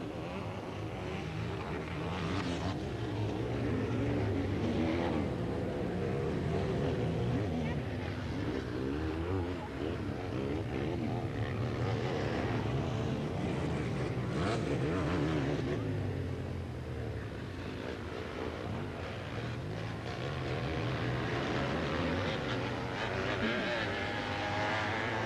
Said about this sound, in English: these sidecars are out here in full flight